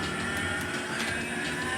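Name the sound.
cow mooing in a video game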